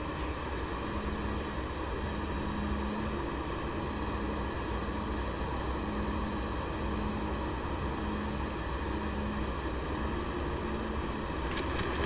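An F-16 jet engine runs steadily in DCS, a constant whining roar with a sustained high tone and faint rhythmic pulsing, unchanging in level for twelve seconds.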